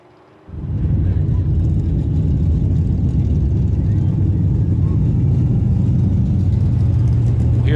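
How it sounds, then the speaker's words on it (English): Race cars roar around the dirt oval at Maquoketa Speedway, a steady, loud engine drone that starts after a brief quiet opening and holds at full volume throughout. "Hear those cars coming on the track now."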